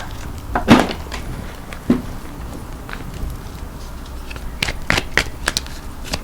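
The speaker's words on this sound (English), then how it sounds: "sometimes they like it when you shuffle them backwards too" Tarot cards are shuffled in a few quick riffling bursts, close and fairly quiet, separated by pauses with soft handling taps.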